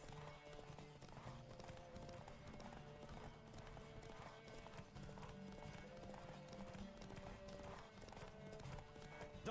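Steady rhythmic hoofbeats of a galloping horse in The Witcher 3 video game, with a continuous musical score underneath, loud and constant throughout.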